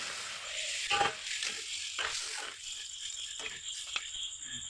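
Water boiled with whole cardamom and bay leaf is poured into a hot pan of chicken and potato curry, giving a soft crackling sizzle with a few stirring clinks, fairly quiet.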